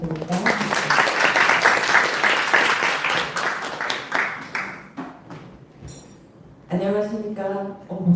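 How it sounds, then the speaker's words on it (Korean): Audience applause fills a hall after a trauma surgeon's lecture is introduced at a camp for medical students and residents. Dense, steady clapping fades out, and a single voice starts speaking near the end. "박수 부탁드립니다."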